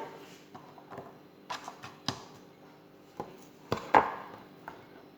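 An apple is peeled and cut with a knife, giving scattered, irregular knocks and short scraping strokes on a board, fairly close and quiet, with one louder crisp cut near the end.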